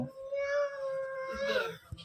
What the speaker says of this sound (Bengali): ম্যাও করছে, ম্যাও